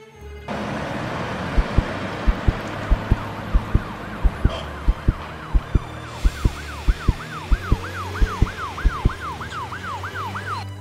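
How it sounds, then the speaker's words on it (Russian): An ambulance siren wails, rising and falling repeatedly as it passes over low traffic rumble, with a rhythmic series of sharp ticking clicks running underneath. "мимо них проехала скорая помощь"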